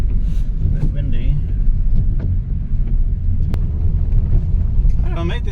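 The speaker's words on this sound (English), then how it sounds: "It's a bit windy." Wind rumbles against the microphone at a fishing spot on the shore, a constant heavy low roar with voices talking over it.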